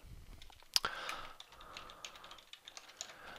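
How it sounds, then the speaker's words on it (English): Quiet typing on a computer keyboard, a sharp click followed by a light scatter of soft keystrokes in an uneven rhythm, close by and faint. "then typing that in"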